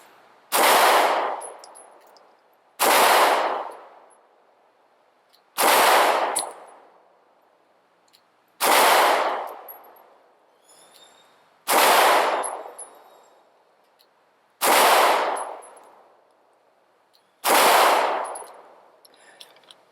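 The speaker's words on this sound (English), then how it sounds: "So now we're shooting the M&P Shield" A Smith & Wesson M&P Shield pistol fires seven sharp, loud shots at an outdoor range, evenly spaced about every two and a half seconds, each with a ringing tail and quiet gaps between.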